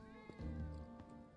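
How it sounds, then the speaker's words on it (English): Cat meows in the video game Final Fantasy 7 Remake, a short mewing call rising over a steady bed of game music and ambience, with no talk. "that cat is scurrying"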